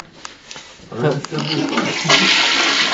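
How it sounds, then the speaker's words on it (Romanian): A toilet flushes close by with a rising rush and gurgle of water, while people talk and laugh over it. "Trage apa, trage apa."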